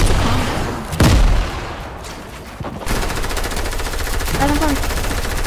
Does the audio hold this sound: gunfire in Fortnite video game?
yes